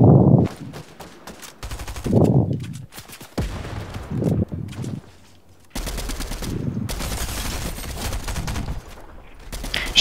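Fortnite trio match gunfire, bursts of rapid shots and single cracks separated by brief gaps, loud and close, with a short silent stretch partway through.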